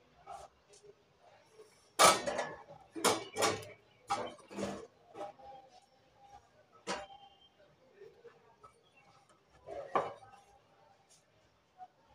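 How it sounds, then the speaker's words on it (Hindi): Utensils, pots and dishes being washed, with sharp metallic clinks and clatters coming in irregular bursts close by, plus some quieter rattling in between. "तो बस फटाफट मैं यहाँ पे बर्तन साफ़ कर लूँगी"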